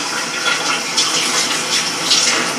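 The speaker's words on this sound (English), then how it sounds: "you put them through the cold water" Cold water gushes steadily from a tap, a loud continuous splashing stream with no voices.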